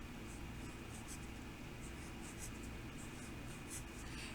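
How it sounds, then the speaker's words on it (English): Pen or pencil drawing boxes on a math worksheet, soft continuous scratching strokes close up under a steady background hiss, with no talking. "Now that I have all those terms, I'm going to draw my boxes."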